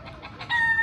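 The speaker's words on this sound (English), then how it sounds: "there is effing chickens all over the place" Chickens roaming around a house restaurant cluck in short repeated bursts, then one lets out a louder, sustained crowing call, close and clear with no talk.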